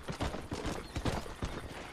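Horse hooves galloping in Red Dead Redemption, a rhythmic run of heavy thuds repeating steadily and close, with no talk over them.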